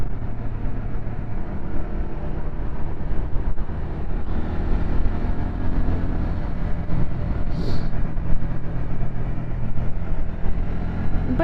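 A Yamaha TW200 motorcycle engine drones steadily while riding, a constant low rumble blended with wind rushing past the helmet.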